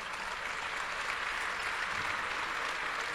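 Sustained audience applause fills the room, dense and steady with no gaps, many hands clapping at close range throughout with no voices over it.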